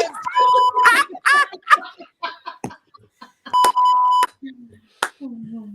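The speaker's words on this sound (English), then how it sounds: "Are you beeping yourself?" Electronic beeps sound in short bursts between lively talking and laughter, with a couple of sharp tones standing out.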